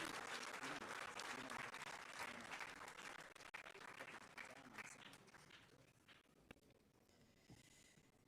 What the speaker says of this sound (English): Shall we please give His Royal Majesty another big round of applause?